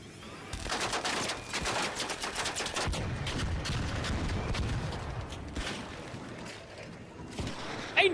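Heavy gunfire in the ARC Raiders game, with several players firing at once during a strafing run: dense, loud bursts of rapid shots that keep going across the whole stretch, with no one speaking.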